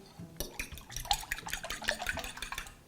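Egg and milk mixture poured into buñuelo dough made with butter, giving soft liquid splashing and wet mixing sounds that rise and fall in quick bursts, close and fairly clear, with no talking.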